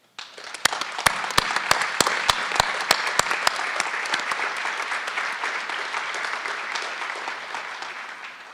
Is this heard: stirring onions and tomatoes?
no